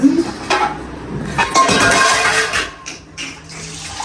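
Water running from a household tap into a container, splashing and gurgling in bursts alongside clinks of dishes or utensils, close and fairly loud.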